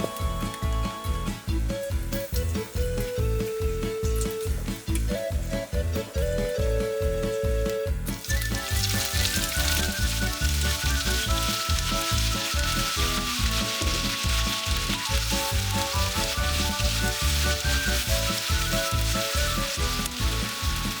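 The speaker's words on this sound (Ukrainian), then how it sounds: "нарізаємо на смужечки та викладаємо смажитись" Pork fat strips (cracklings) sizzle and crackle continuously in a hot pan, a busy popping hiss that grows brighter partway through, with no voices.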